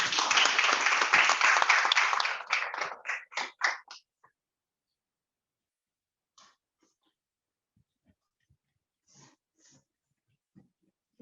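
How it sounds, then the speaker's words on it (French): A ceremony audience at a training-year closing and opening event applauds: a burst of full clapping for a few seconds, then scattered claps thinning out into near silence with a few faint stray sounds. "Vos applaudissements, s'il vous plaît."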